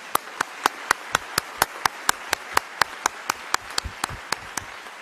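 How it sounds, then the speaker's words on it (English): At a UN civil society conference closing ceremony in Nairobi, clapping for the planning committee comes as sharp, evenly spaced claps in a steady unison rhythm, about four per second, loud and distinct against a quiet room. "May we please give them a round of applause."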